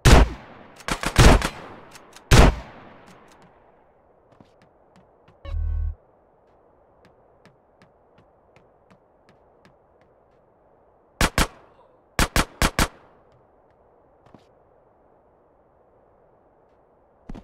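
Sharp, loud gunshots ring out in scattered bursts with quiet gaps between them in GTA San Andreas Definitive Edition, some in quick clusters of two or three, and a brief low thump partway through.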